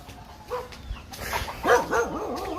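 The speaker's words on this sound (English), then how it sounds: "That dog." A village dog in a Philippine province barks and yelps close by, a short run of several sharp, rising-and-falling barks and whines over quiet outdoor ambience.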